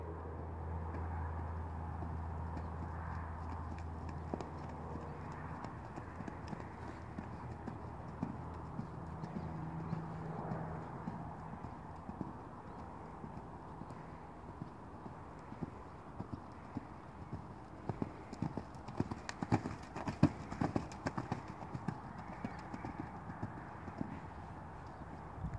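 A horse ridden bareback canters in a schooling session, rhythmic hoofbeats thudding steadily throughout and growing louder and sharper toward the end, with a few faint background noises.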